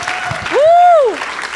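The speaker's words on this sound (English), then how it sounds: "Can I get another round of applause for him and the rest of our speakers?" A conference audience claps and cheers for the speakers, a brief burst of applause topped by a loud, rising and falling whoop.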